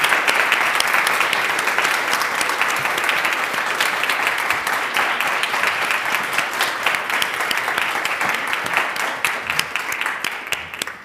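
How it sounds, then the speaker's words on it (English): A lecture audience on peaceful change in the Middle East gives loud, sustained applause, a dense wash of many hands clapping that continues without a break and fades only slightly at the end. "That was a very warm and a very long applause."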